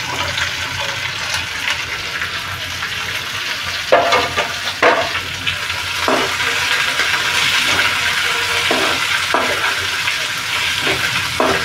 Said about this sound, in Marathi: आता कांदा टाकून घेऊ, कांदा, शिमला मिरची हे सर्व टाकून घेऊ.